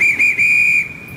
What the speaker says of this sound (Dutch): Je moet misschien op je fluitje blazen, zodat iedereen weet dat de golven begonnen zijn.